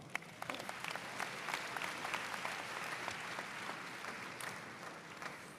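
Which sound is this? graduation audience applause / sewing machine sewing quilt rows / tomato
graduation audience applause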